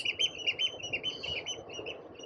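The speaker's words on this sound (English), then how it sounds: "It's still, it's quiet aside from the oyster catchers and the whimbrel." Oystercatchers and a whimbrel calling on a quiet beach in Guernsey, repeated shrill piping notes in quick rhythmic bursts at moderate distance, with no talking.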